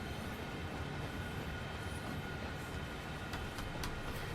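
Freight train in Train Sim World 2 on Sand Patch Grade near Cumberland Yard, a steady broad rumble and rail noise running throughout at moderate level, with a few brief higher clanks near the end.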